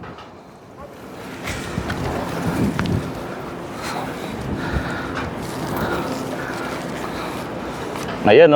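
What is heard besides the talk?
sandstorm wind in Saudi Arabia, heard from a rooftop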